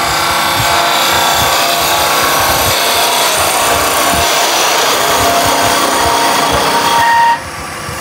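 A spindle gouge cuts a spinning workpiece on a wood lathe with bevel rubbing, giving a steady, loud, close hiss and scraping rasp with lathe hum beneath, ending with a slight drop as the cut eases.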